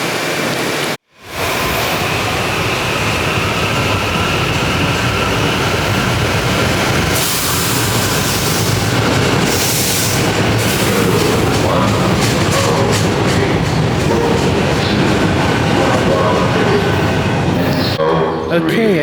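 Commuter train on the Media/Wawa line pulling into a station platform, a steady loud rumble and rushing wheel and brake noise filling the whole stretch, with faint background voices.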